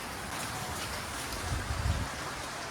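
Steady, soft rain patters on leaves and ground at a Texas state park, a faint, even hiss with no voices.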